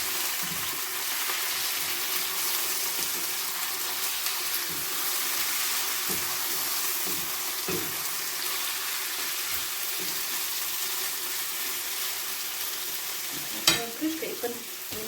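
Chicken liver frying in a pan over lowered gas, a steady hiss and sizzle with soft scraping stirs of a utensil against the pan, ending in a brief louder clatter.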